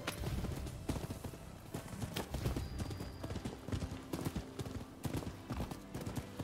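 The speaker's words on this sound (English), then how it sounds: "Come horsey." Horse hooves clip-clop in Rise of the Ronin, a fast, steady, close rhythm of hoofbeats throughout, with a brief tonal game sound partway through.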